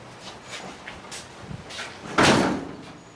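A vintage hot rod car door swings shut and latches with one solid, close slam after some faint handling noises.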